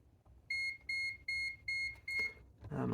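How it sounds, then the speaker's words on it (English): A digital multimeter emits five evenly spaced electronic beeps as it times out during diode testing of Bally pinball lamp boards, followed by a brief clatter of handling noise. "My multimeter is trying to time out on me here."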